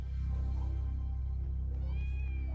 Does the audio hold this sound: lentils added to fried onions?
no